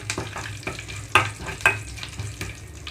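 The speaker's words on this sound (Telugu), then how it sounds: "ఇందులోకి అయితే కొన్ని కరివేపాకు రెమ్మలు కూడా వేస్తున్నాను" Curry leaf sprigs crackling in hot tempering oil for a ridge gourd chutney, a close, steady frying hiss with two sharp popping spatters, with no voices.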